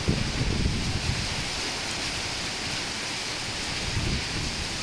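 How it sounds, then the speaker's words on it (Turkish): Heavy rain pours down steadily, a dense continuous hiss with no voices. "Böyle aşırı derecede deli deli yağıyor."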